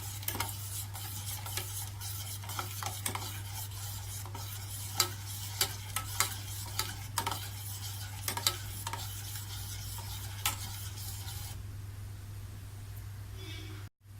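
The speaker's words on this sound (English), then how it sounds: "So I'm adding some coffee powder to this. Mix it well." Chocolate cake batter made with wheat flour and coffee powder being stirred in a bowl, a steady soft scraping with light clinks, continuous at moderate level over a low hum.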